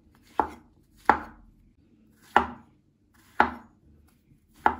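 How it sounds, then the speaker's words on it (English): Knife chopping fresh kale and slicing mushrooms on a cutting board: five sharp, separate close strikes at an uneven, unhurried pace, each one ringing out briefly into quiet, with no talking. "Chop some kale now."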